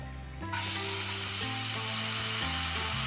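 Moth beans (matki) hit a pan with very little oil and break into a loud, steady, close sizzle that fills the rest of the moment, with a quiet music bed underneath.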